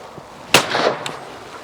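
A Browning 525 over-and-under shotgun fires a single loud, sharp report on a clay target course, followed by a brief rolling echo and a faint second crack.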